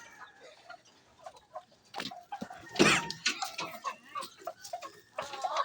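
Native chicken stags cluck on a rural backyard farm. The clucks come in scattered, irregular bursts at a fairly faint level, with no talk.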